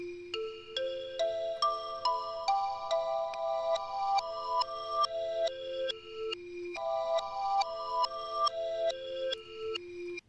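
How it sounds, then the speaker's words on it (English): A bright, bell-like synth loop of short tonal notes plays through once, then repeats reversed via a Backmask plugin, steady and clear with no voices. "once it starts the second time around, you'll hear the reverse"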